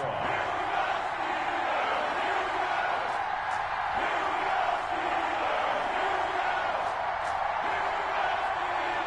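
A stadium crowd in an EA Sports football video game, Denver Broncos against Pittsburgh Steelers, keeps up a steady wash of roaring and cheering, with a commentator's voice faintly underneath.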